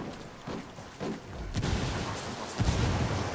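A frag grenade blast in the online shooter Ghost War, heard as a few dull booms and bursts of gunfire-like thumps, with a heavier, louder explosion midway and another strong hit near the end.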